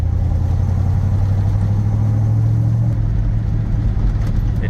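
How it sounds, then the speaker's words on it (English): A 1965 Chevrolet Corvette with a 4-speed manual cruises in second gear, its engine a steady, loud low-pitched drone with constant road rumble and no talk over it. "We're in second gear here. It is a 4-speed."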